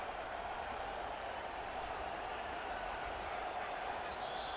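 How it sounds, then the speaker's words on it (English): Dense, roaring crowd noise fills a college football stadium during a tense late two-point conversion in a Tennessee versus Penn State season opener, a steady wall of cheering and shouting with no breaks. "this crowd is electric trying to stop them"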